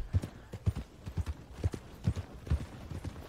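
Horse hooves clip-clop in Red Dead Redemption 2 as a steady, close rhythm of paired thuds at a brisk walking pace, with no other sound over them.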